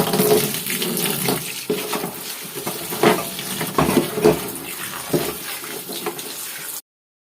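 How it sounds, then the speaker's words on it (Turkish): Chopped spinach being washed in a large amount of water, with steady splashing and sloshing, handfuls stirred and swished in bursts, close and without talk, ending abruptly. "Şimdi bol suda yıkayalım."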